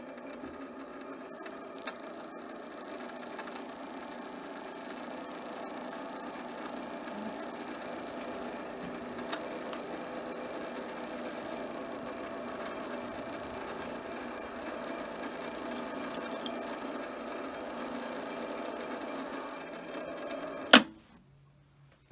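A sewing machine winding a bobbin automatically gives a faint, even mechanical whir that runs unbroken for about twenty seconds. It stops with a single sharp click near the end.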